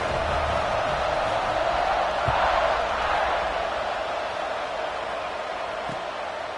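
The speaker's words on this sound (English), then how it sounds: "this crowd is buzzing after that last score" A football stadium crowd during a Georgia versus Notre Dame game keeps up a broad, steady buzz of murmuring and cheering, moderately loud, with a couple of faint thuds.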